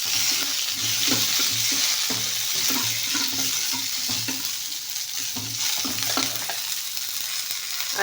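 Urad dal and curry leaves sizzling in hot oil, a loud, close, continuous hiss with repeated stirring scrapes against the pan, no voices.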